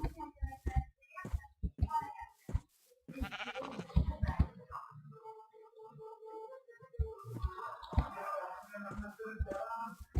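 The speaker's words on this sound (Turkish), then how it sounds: "Bir koyun yapalım o zaman." Minecraft sheep bleats, several short cries with clicks and taps between, ending in a longer wavering bleat.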